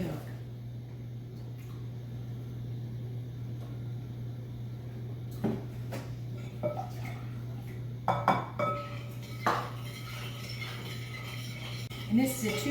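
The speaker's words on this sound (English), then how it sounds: "this is a 2-quart bowl here I'm mixing it in" Spoon clinking and scraping against a 2-quart microwave-safe bowl while coconut cream pie filling of milk and sugar is stirred, scattered light clinks over a steady low hum, growing busier toward the end.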